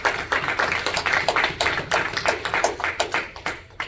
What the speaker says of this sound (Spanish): Denle palmas fuertes al Señor